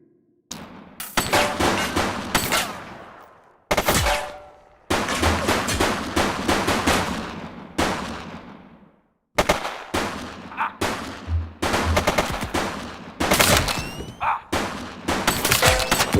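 A suspect shooting in The Precinct, loud repeated bursts of gunfire that break off with short silent gaps, each burst ringing out and echoing as it fades.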